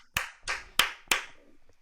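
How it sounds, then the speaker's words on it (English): A few sharp hand claps from an audience thanking a speaker at an agile leadership talk: four distinct loud claps spaced irregularly, then fading, with no sustained applause swell. "I believe that this applause should be yours."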